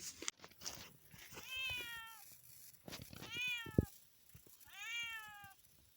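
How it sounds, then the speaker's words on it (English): A cat gives three drawn-out, plaintive meows at a garden stone bridge and bamboo site, spaced a second or so apart, fairly quiet against soft outdoor background with a few light knocks. "You silly cat."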